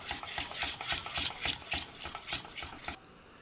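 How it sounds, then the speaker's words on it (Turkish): Tiramisu cream with vanilla added is stirred or whisked in a bowl, giving steady rhythmic scraping and sloshing strokes at close range that stop near the end. "Karıştırmaya devam ediyoruz."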